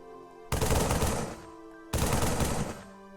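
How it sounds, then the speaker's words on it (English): An assault rifle from a Halo mod for Minecraft firing two rapid automatic bursts, each about a second long, loud and close over a faint background hum. "Obviously, it's an assault rifle, which is probably like the most common item in the Halo mod."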